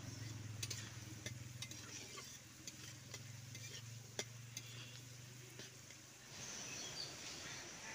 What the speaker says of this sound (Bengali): আলুটাকে দিয়ে তেলের উপরে কিন্তু একটু 3 থেকে 4 মিনিটের মতন ভেজে নেব